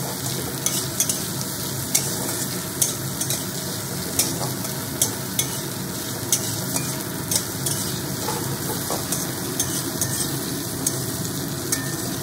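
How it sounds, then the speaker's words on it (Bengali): Green tomatoes and garlic fry in a pan, giving a continuous close sizzle with a steady hiss, punctuated by regular sharp taps and scrapes of stirring about every second, with no voices. "তাহলে চলুন আগে এইগুলো খুব ভালোভাবে একটুখানি ফ্রাই করে নিই"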